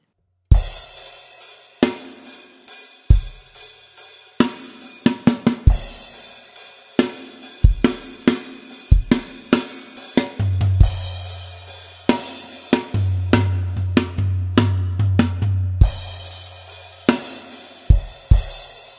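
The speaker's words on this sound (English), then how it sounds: "You notice there's extra crash cymbals that are happening in that beat." Close, loud drum kit playing the outro of a song, with extra crash cymbal hits punctuating the beat and a busy fill in the third bar, over a sustained low tone and no speech.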